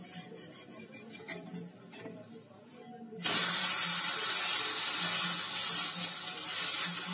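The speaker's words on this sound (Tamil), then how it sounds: "இப்போ தோசை வெந்துருச்சு, நம்ம திருப்பி போட்டுடலாம்." An onion dosa is flipped on a hot pan: quiet light clinks and utensil movement, then a sudden loud, steady hiss of sizzling that lasts to the end.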